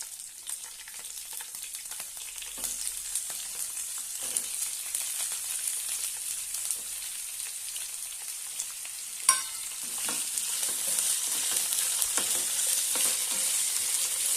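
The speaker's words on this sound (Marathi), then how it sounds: "आणि छानपैकी परतून घेऊया आता आपण यामध्ये बटाटे घालूया" Potatoes sautéing in a pan for a yellow potato dish, giving a steady soft sizzle and hiss throughout, with a light clink of a utensil partway through and occasional faint stirring.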